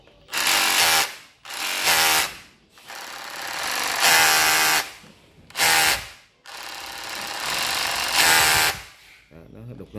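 A cordless Japanese rotary hammer drill in chisel mode hammers in several loud, dense bursts of a second or more, separated by short pauses, close to the microphone with no talk over it.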